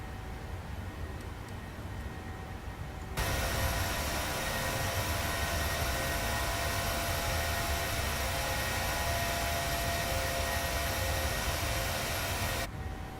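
A PMDG Boeing 737-800 in American Airlines livery climbs out of Chicago in Microsoft Flight Simulator, its steady jet engine roar growing louder into a dense, broadband cockpit rush that holds evenly before dropping back.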